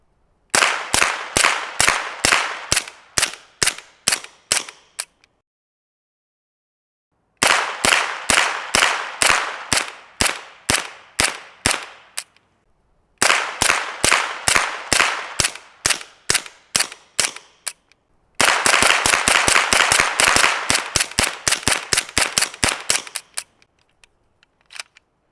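Suppressed gunshots through an Omega 36M suppressor in short configuration, fired in four rapid strings of sharp, evenly spaced cracks with brief silent pauses between strings, the last string fastest and densest, loud and close, with no talking.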